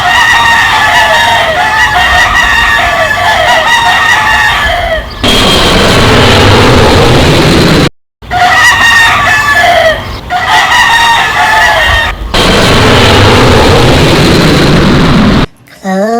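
Roosters crow loudly and repeatedly at close range, with clucking between calls, broken up by abrupt cuts and stretches of harsher, noisier sound.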